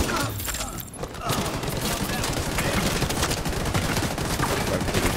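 Sustained rapid gunfire from a rifle build in The Division 2, with dense overlapping shots and impacts running almost continuously, loud and close, briefly easing near the one-second mark before resuming.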